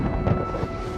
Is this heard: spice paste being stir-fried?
no